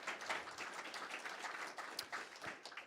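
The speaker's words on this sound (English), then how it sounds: "One more round of applause" Applause from a conference session audience, a steady, fairly faint wash of many hands clapping that carries on evenly without voices over it.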